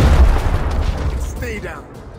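A frag grenade detonates in Gears Tactics, a loud low boom at the start that rumbles and decays over about two seconds, with faint chirpy game effects trailing behind.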